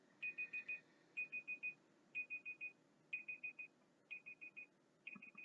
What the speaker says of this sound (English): And there's my timer for this one.